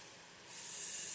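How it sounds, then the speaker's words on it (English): Cooking oil spray hisses into a pan for a short, steady burst after a brief near-silent moment. The close, airy spray continues to the end. "a little bit of oil spray."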